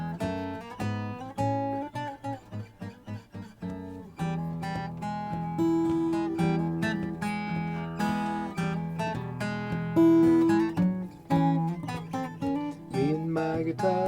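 Acoustic guitar playing a song in a blended bluegrass style, steady picked and strummed chords with melodic runs, full and close for several verses with no talking.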